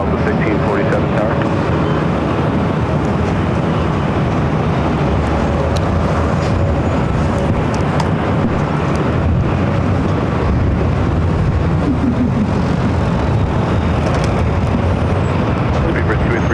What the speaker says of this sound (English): Another Dreamliner heading over here to 24 left.